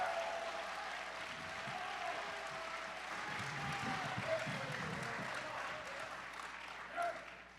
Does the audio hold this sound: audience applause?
yes